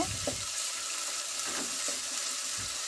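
Chopped onions fry in hot mustard oil with cardamom and cinnamon, a steady dense hiss broken by soft scraping strokes as they are stirred around the pan.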